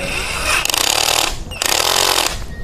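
Cheap cordless drill bought for 278 baht running during a torque test, two loud, close bursts of whirring motor with a short pause between, no talking.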